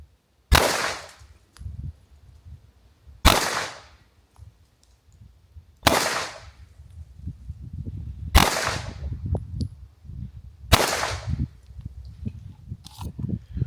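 Five loud, sharp pistol shots from an open-gun race setup with a compensator ring out alone at roughly even intervals of about two and a half seconds, each with a short echoing tail outdoors.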